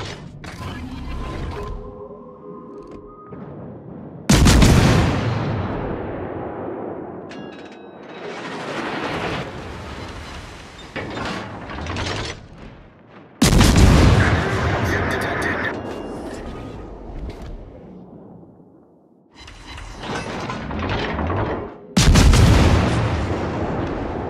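Warship guns fire in the naval battle game World of Warships, with several loud, booming salvos spaced several seconds apart, each trailing off in a long rumble, while a game voice speaks between the shots.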